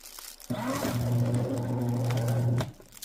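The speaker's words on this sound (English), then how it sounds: "it's making a weird sound. It's definitely having a hard time shredding it." Fellowes Powershredder 6M shredding envelopes, a strained, low motor drone that starts suddenly, holds steady for about two seconds while the machine labors, then cuts off.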